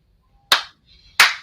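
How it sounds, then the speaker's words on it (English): Two sharp, close hand claps about two-thirds of a second apart, crisp and isolated in an otherwise quiet room. "Always got to do his clap."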